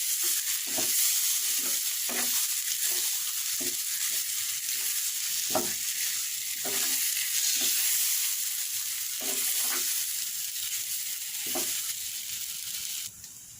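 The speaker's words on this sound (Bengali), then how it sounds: "ভালোভাবে মশলাটা মিশিয়ে দিচ্ছি" Spiced mashed banana bhorta being stirred in a wok, a steady low sizzle broken by repeated scraping strokes of the spoon at an irregular rhythm, close and alone.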